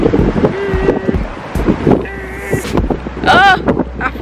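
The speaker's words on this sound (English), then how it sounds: "it's real windy, so you probably can't even hear me." Strong wind buffeting a microphone outdoors in Texas, gusty low rumbling bursts that come and go, with a person talking and a few higher voiced sounds over it.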